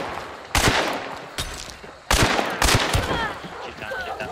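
Enemy gunfire aimed at the player in a video game, loud bursts of rapid shots starting abruptly, pausing briefly, then resuming in heavier rattling volleys up close.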